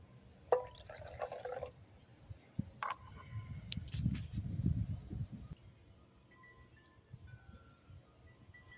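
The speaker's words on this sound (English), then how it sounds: "And we'll add 30 more milliliters of hydrogen peroxide also." Hydrogen peroxide is poured into a beaker of acid holding dissolving brass, copper and zinc, with liquid dripping and splashing in a lab. The sound comes as close, intermittent trickles and drips, with a thicker wet pour in the middle.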